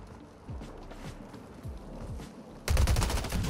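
M13 rifle fire in a video game erupts in a sustained, loud automatic burst near the end, following quieter footsteps and game ambience.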